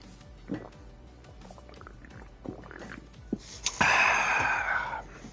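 Someone drinks water, with scattered small liquid clicks and drips. Near the end comes a louder, longer gurgling gulp, close and fairly quiet overall.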